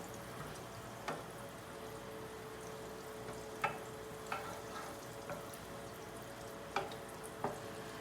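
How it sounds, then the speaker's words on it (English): Butter melting slowly in a pan for creamed spinach: a faint, low, steady sizzle with a few soft scattered ticks and pops, no voices. "We're slowly melting the butter."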